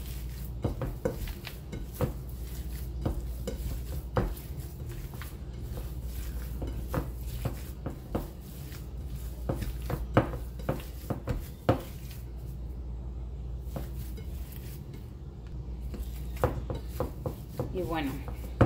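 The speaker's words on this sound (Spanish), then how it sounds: "Entonces así lo vamos a batir muy bien para que agarre pues bien el sabor de la cebolla y del ajo." Ground meat is worked by hand with onion, garlic and bacon in a bowl, making repeated soft squelching slaps and knocks against the bowl, with a steady low background hum.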